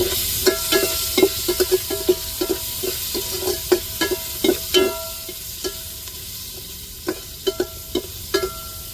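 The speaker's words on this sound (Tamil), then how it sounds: "தக்காளி அப்படியே வதக்கி விட்டுக்குருவோம்" Tomatoes, three chillies and onions sautéing in a pan for an onion kuzhambu, with a steady low sizzle and scattered sharp scrapes and clicks of a spoon stirring them. No one talks.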